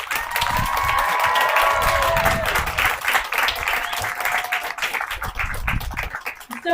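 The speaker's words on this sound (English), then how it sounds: "All right, so a big round of applause." Graduation audience at a Reno high school ceremony gives a sustained round of applause, dense clapping mixed with crowd noise and a few cheers, with some voices and tonal sounds mixed in.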